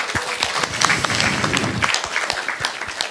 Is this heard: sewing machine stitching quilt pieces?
no